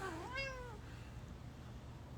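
A cat lets out a single short meow at the start, followed by quiet room noise.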